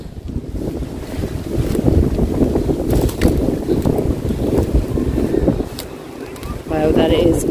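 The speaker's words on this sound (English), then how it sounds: "that is getting very windy" Strong gusting wind from Storm Barra batters the microphone at the Kilkea Castle graveyard in Ireland, a loud, continuous rumbling roar that rises and falls, with brief speech.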